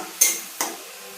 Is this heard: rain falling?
no